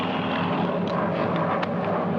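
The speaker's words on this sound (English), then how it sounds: "3 enemy planes approaching from the east." Enemy aircraft engines drone steadily and fairly loud in a 1943 Pacific War film, a continuous roar with faint clicks over it and no voices.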